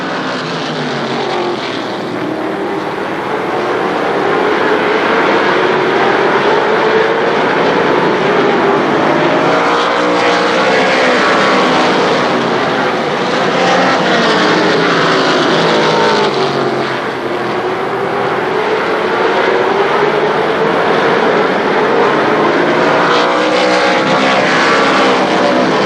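Race cars at Shadybowl Speedway run green flag laps, a loud, continuous roar of several engines that swells and fades as the pack passes, with no talk over it.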